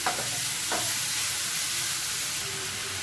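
Onions with a little salt sautéing in a pan, a loud continuous sizzle with a couple of quick stirring scrapes early on.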